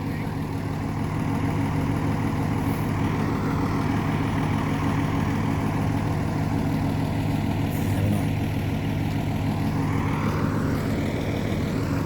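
A truck engine idles with a steady, constant low rumble and drone for the whole stretch, loud and close, with no change in pitch or pause.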